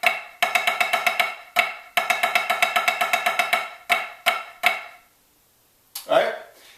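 A snare drum plays two measures of single stroke rolls with flams, close and crisp in quick bursts of even strokes separated by short pauses, followed by a brief voice.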